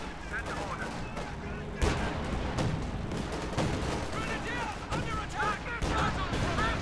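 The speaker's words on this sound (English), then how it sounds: "And there go bazookas versus the Flak Panzer's frontal armor" Bazookas firing at a Flak Panzer's frontal armor in the real-time strategy game Company of Heroes 2, with dense overlapping gunfire bursts and sharp impacts throughout, mixed under a commentator's talk.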